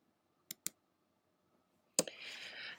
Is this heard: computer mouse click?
yes